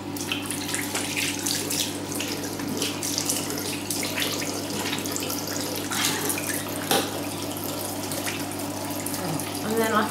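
A bathroom sink tap runs steadily during a nightly face-washing routine, with continuous splashing and gurgling water close by and occasional soft knocks, while someone talks over it.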